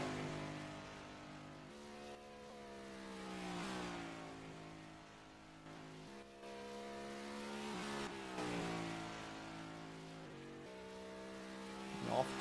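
A race car engine revs through a qualifying lap at Phoenix Raceway, rising and falling in pitch with repeated shifts and surges, loud and sustained.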